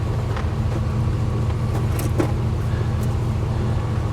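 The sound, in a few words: 1943 Westinghouse portable air compressor motor running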